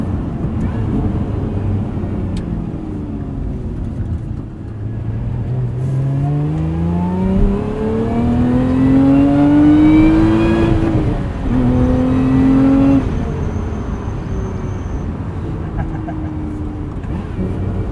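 A 2024 Lotus Emira sports car with a 6-speed manual revs and accelerates with rising pitch, loud and close, easing off briefly then climbing again.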